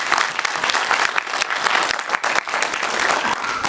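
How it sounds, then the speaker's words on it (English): Vigorous audience applause at a book launch event, many hands clapping in a thick, slightly uneven wash with a few sharp individual claps standing out, sustained for several seconds. "Can we have a huge round of applause?"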